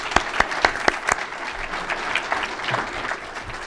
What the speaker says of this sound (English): Nice round of applause for our moderator, John Mooney.